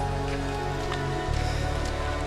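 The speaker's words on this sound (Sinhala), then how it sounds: "ඒ වුණාට අද වහිනවා." Steady rain patters on a surface, a soft continuous hiss with scattered drops, with a faint low hum underneath.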